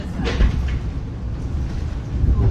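A Seattle monorail train rumbles steadily nearby with a low, continuous roar and faint rattling from the cars, with no voices over it.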